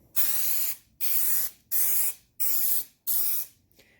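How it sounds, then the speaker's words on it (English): Contact cement sprayed from a can onto the back of sandpaper for refinishing a cylinder head: five even, close hissing bursts, each about half a second long, with short silent gaps between them. "I'm going to put the contact cement on the back of the sandpaper."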